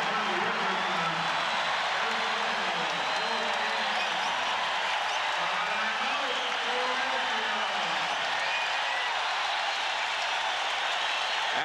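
A basketball arena crowd at the 1983 NBA Finals between Philadelphia and the Los Angeles Lakers cheers and applauds in a steady roar while a commentator talks over it.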